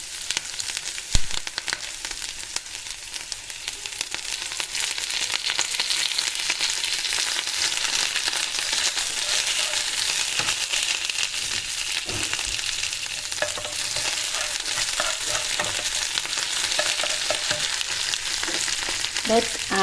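Green chilies and curry leaves sizzle steadily in hot oil with ginger and garlic, a dense continuous frying hiss with faint crackles, close and loud throughout.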